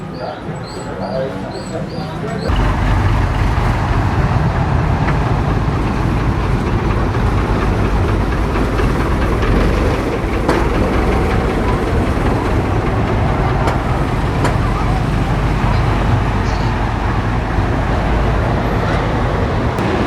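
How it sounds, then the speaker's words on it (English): A small amusement park train pulls away from its depot by a lake, rumbling and rattling steadily close by for the whole stretch, with a brief clatter of other sounds beforehand. "Here is the train depot."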